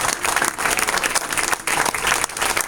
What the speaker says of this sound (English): can we just please give a round of applause for them